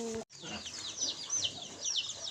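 Chickens left in a farm pen cluck and call in short repeated bursts, close and moderately loud, after a brief low voice at the start.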